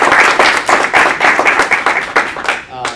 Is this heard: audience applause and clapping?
yes